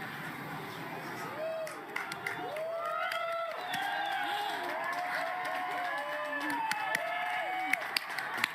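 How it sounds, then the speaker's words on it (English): A crowd cheers and whoops at an annular solar eclipse viewing outside Brownsville Southmost Public Library, with excited voices rising and overlapping alongside scattered clapping and talk throughout. "Everyone is cheering."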